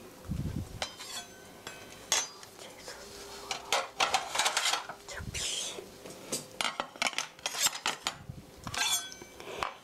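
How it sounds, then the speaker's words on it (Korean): Knife chopping vegetables, onion, on a board in a kitchen, with irregular sharp taps and knocks plus some clinking of utensils, close up and loud; a voice speaks intermittently between the cuts. "채소 썰어 보겠습니다."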